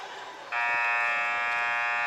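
A loud electronic buzzer sounds at a women's college basketball game between Tuskegee and Central State, cutting in sharply over crowd noise and holding steadily to the end.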